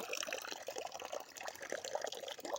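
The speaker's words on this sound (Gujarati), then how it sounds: "એટલી હાઈટ પરથી પાણી પણ આવે છે મિત્રો" Water gushes steadily from the pipe of a newly bought motor pump, pouring from a height in a continuous, close, splashing stream with no talk over it.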